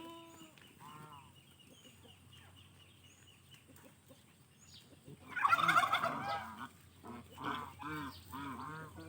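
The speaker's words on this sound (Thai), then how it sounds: "มีห่าน มีเป็ดค่ะ มีไก่ มีไก่งวง" Farmyard poultry calling: turkeys gobbling in a loud burst amid clucking chickens and honking geese and ducks, near and overlapping.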